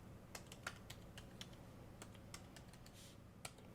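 Typing on a Samsers full-size foldable Bluetooth keyboard: a quiet, uneven run of light key clicks, close up and sparse, with no speech.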